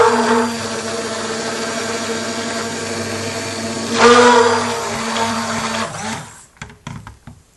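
A stick blender whirs steadily in cold process soap batter, a loud, continuous motor hum that rises briefly in pitch midway, then cuts off, leaving a few knocks and stirring sounds.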